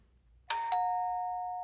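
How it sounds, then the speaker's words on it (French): A doorbell chime rings once as a two-tone ding-dong inside a house, striking sharply then sustaining a clear ringing tail that fades slowly, alone against silence. "la sonnette de la porte principale retentit"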